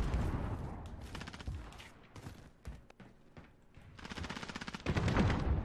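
Rapid automatic gunfire and heavy bursts rattle through a Modern Warfare Cranked team deathmatch, with sustained volleys, brief gaps of scattered single shots, then a renewed loud barrage.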